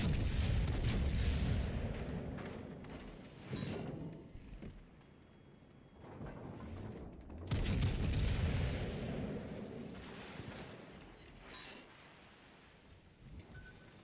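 Heavy naval gunfire from an enemy warship shooting HE shells in World of Warships Legends, loud booming salvos in repeated bursts with rumbling decay between, no talk over it.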